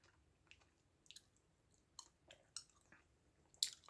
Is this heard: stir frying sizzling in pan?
no